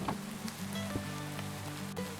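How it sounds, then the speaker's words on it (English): Rain falling in the video game Minecraft, a steady dense patter heard alone with no talk, fairly soft and continuous. "And hopefully that rain goes away pretty soon."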